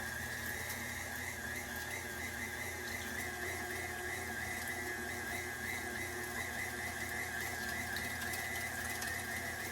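KitchenAid stand mixer fitted with a metal food grinder attachment grinds beef, giving a steady motor whine with a constant high tone and a low hum that runs unbroken and fairly faint.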